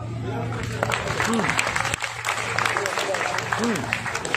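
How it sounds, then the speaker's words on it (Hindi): An audience at a spoken religious discourse claps through the whole stretch, dense and sustained, with a voice talking over the applause. "तालियां बजा दो।"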